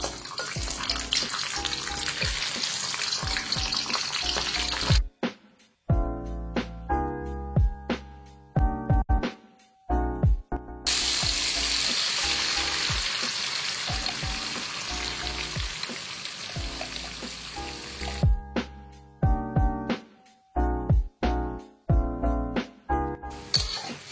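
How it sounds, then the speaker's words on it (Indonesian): Spices for dendeng balado fry in hot oil with a loud, crackling sizzle that comes in long stretches, broken by short bursts of stirring and utensil clatter while the pan quiets between them. "Langsung aja kita goreng rempah-rempahnya."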